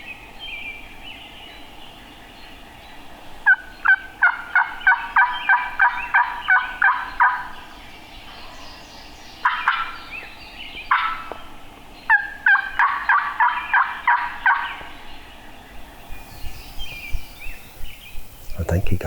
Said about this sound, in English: I think he gobbled one call that time.